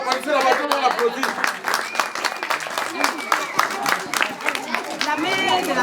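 Crowd applause at a primary school awards ceremony, sustained clapping from many hands for several seconds, mixed with chatter and voices in the room.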